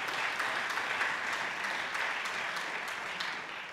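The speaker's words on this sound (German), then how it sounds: "Applaus" An audience claps after a candidate's speech for a place on the BÜNDNIS 90/DIE GRÜNEN state list, sustained applause at an even level that fades slightly toward the end.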